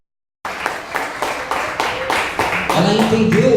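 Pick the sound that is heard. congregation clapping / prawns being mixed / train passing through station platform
congregation clapping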